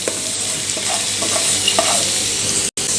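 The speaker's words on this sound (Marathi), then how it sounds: "गॅसची फ्लेम फुल ठेवायची आणि या भाज्या आपल्याला एक मिनिटभर फक्त परतून घ्यायच्या आहेत" Vegetables stir-fry over a full gas flame for chicken fried rice, a dense steady sizzle with quick scraping stirs and tossing clatters, close and loud, with a brief dropout near the end.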